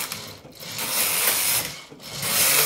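A knitting machine working rows of plain knitting, with a carriage sliding back and forth in steady rasping, clattering passes broken by brief pauses at each row's end.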